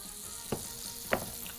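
Chicken frying in olive oil and butter for chicken soup, a faint continuous hiss with two brief clicks of stirring, nearby and quiet.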